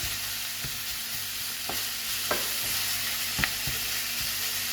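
Ground meat seasoned with paprika browns in a pan for a hachis parmentier, giving a steady close sizzle broken by occasional scraping stirs of a utensil, with no voices.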